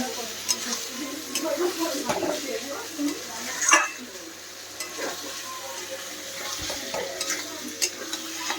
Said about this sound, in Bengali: রসার মশলা কষাচ্ছি